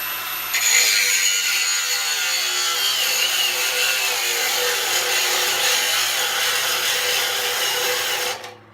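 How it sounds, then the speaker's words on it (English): An 18V brushless angle grinder grinds hard under heavy load, a loud, dense, continuous scream holding steady for several seconds before winding down at the end. "it's time to grind. I'm going to bury these things, try to get them to overheat"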